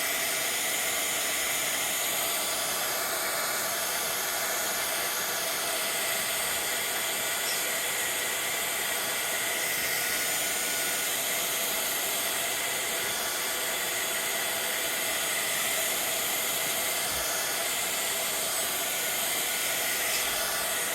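A hair dryer blows continuously at close range to dry a layer of shimmer spray paint, a loud, steady airy roar lasting the whole stretch with no voices.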